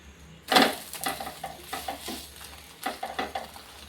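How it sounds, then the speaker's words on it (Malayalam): An omelette with drumstick leaves sizzles in a frying pan and is flipped with a sharp clatter, followed by steady sizzling and light scraping of the spatula, close up with no talk. "ഓംലെറ്റ് റെഡി ഇനി നമുക്കിതൊന്ന് തിരിച്ചിട്ട് കൊടുക്കാം"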